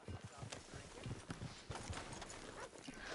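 Horses' hooves clip-clop at a steady walking rhythm in the video game Red Dead Redemption 2, soft and fairly distant, with faint background ambience.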